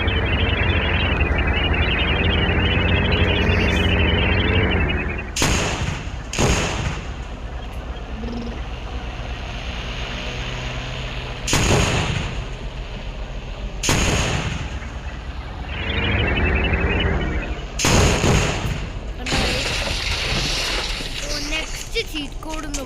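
A tank in the Indian Bike Riding 3D video game fires several loud, sharp bursts over a steady rumbling game-engine drone. A voice speaks at times.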